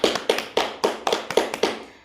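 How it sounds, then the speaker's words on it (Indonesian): A classroom of children claps for a group of classmates: several bursts of sharp, close hand claps in an uneven rhythm, with no talking. "Kita tepuk tangan untuk kelompok 3"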